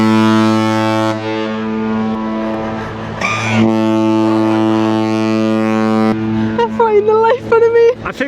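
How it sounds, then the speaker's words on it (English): A cruise ship's horn blasts loud and deep for several seconds, a sustained booming tone, then breaks off as excited voices talk over it. "all of a sudden, without warning, the loudest noise"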